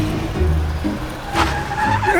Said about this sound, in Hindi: जरा उसके सामने गाड़ी रोक दे